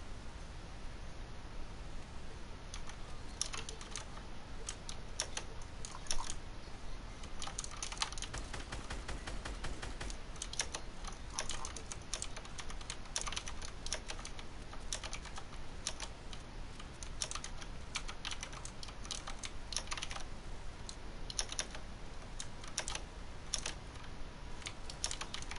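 Steady typing on a computer keyboard, a continuous stream of close, light key clicks with a faint hiss underneath and no talking.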